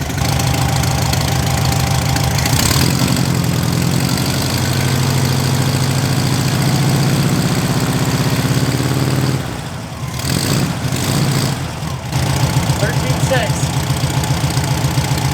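An air-cooled car engine idles steadily with a low, even rumble throughout, briefly dipping and sputtering near the end before settling back.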